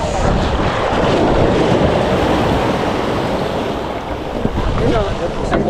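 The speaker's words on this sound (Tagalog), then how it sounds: "Laki ng alon." Large ocean waves and strong wind at a shoreline, a dense steady roar of surf with gusting wind buffeting the microphone throughout, loud and close.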